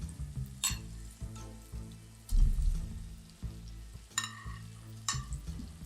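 Duck eggs drop into a hot pan of well-fried tomato, onion and spice masala, setting off a steady close sizzle and frying crackle with occasional stirring scrapes and bumps.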